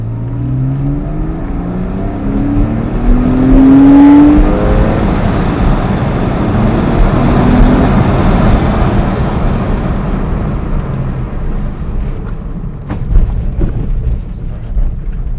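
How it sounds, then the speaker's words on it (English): A loud Porsche 911 997.1 Carrera S flat-six engine drones and revs steadily throughout while driving, with wind buffeting the microphone and a few sharp knocks near the end. "that's when you really actually get to make the engine produce this awesome, fantastic sound"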